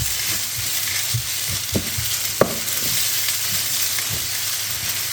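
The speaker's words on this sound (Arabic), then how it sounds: "كنضيف لاصوص الصوجا وكنحرك مزيان" Soy sauce stirred into a sizzling shrimp spring-roll filling in a hot pan, with a constant loud frying hiss and soft scrapes and taps of a spoon moving through the mixture, no talking.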